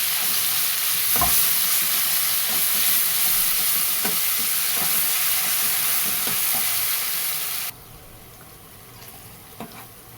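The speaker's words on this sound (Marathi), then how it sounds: "आलं लसूण कांदा एकत्र करून वाटून घेतले मी ते टाकून घेते चांगलं परतून घेऊया" A ground ginger, garlic and onion paste sizzles loudly in hot oil, a steady close crackle with occasional stirring knocks that drops abruptly to a much quieter simmer near the end.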